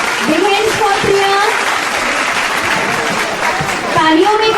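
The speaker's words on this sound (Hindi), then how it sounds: "Big hands for Priya." An audience at a school Independence Day celebration claps steadily throughout, with a voice talking over the applause.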